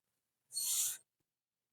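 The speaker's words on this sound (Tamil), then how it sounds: "கிளி கிளி கத்துற சத்தம் உங்களுக்கு கேக்குதுங்களா?" A parrot screeches outside a balcony: one loud, harsh, high-pitched call of about half a second, close by, followed by silence and the start of another cry.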